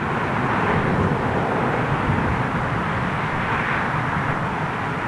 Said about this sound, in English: Virgin Dreamliner going out.